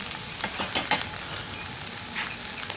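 Salmon sizzles steadily as it heats through in a camp skillet outdoors, a continuous close frying hiss with a few sharper crackles and pops near the start.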